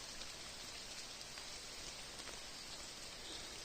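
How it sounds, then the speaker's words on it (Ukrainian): Steady rain falling outdoors in a wild Carpathian forest, an even, continuous hiss of drops pattering on leaves and ground, with no voices. "Погода, як бачите, і як я кажу, дощі."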